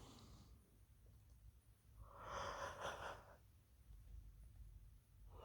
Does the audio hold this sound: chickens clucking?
no